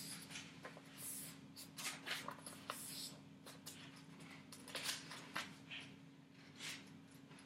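An A4 sheet of paper is handled and folded down the middle, producing soft, crisp rustles and dry creases in uneven bursts over a steady low background hum, quiet and close.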